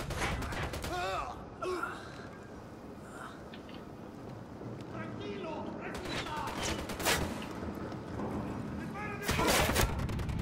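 Gunfire in the tactical shooter Ghost Recon Wildlands, scattered sharp shots and bursts of varying loudness, some close and some distant, over a steady game backdrop with occasional voices.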